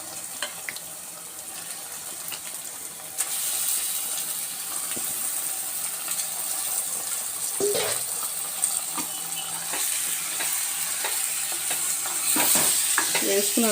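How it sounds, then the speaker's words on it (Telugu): Washed chicken goes into a hot frying pan and the sizzle swells suddenly, then holds a steady close crackle with occasional clinks and scrapes, with no talk. "ఇప్పుడు శుభ్రంగా కడిగి పెట్టుకున్న చికెన్ అందులో వేసుకోవాలి."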